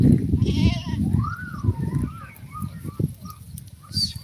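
A goat bleats close by on a farm during milking, a wavering drawn-out call followed by shorter cries over steady background rustle.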